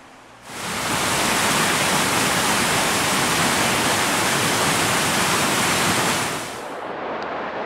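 A waterfall in Oregon's Columbia River Gorge roars as a loud, dense, continuous rush that swells in and later drops back to a quieter background.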